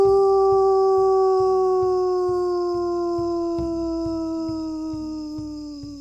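A voice imitating a howl at a group howl event: a single long, loud, tonal howl that slowly falls in pitch and fades, over a steady, evenly pulsing low beat.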